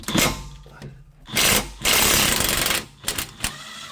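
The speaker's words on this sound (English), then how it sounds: "have an impact like what I got, and use that to unscrew this" An impact wrench spins off the rear shock absorber bolt on a Mercedes Sprinter van, loud close bursts of hammering rattle separated by short pauses, with no talk.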